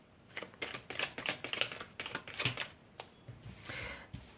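A tarot deck being handled while a card is drawn: rapid crisp card flicks and riffling taps, close but soft, ending in a brief sliding swish.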